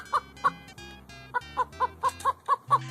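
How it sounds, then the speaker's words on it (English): Chicken clucking heard alone and fairly close: a series of about nine short, sharp clucks in an uneven rhythm, with a brief pause early on before the calls pick up again. "Chicken sounds."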